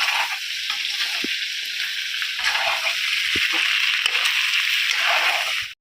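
Fish frying in a pan at home: a continuous bright sizzle and crackle of hot oil that runs steadily, with faint clinks and stirring sounds underneath and no talk.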